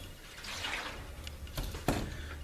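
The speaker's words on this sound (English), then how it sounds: "So now while this sits on its top, slosh it around real good." KBS tank sealer sloshed around inside the fuel tank of a 1965 Chrysler New Yorker, giving soft, irregular liquid swishes with two sharper splashing surges near the end, fairly faint and without talk.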